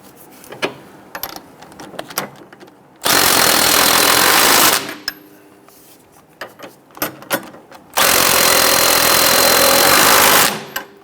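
A power wrench with an 18mm socket zips nuts onto the rear sway bar links of a 2011-2021 Jeep Grand Cherokee in two loud sustained bursts, with clanks and handling noises in the quieter gaps between.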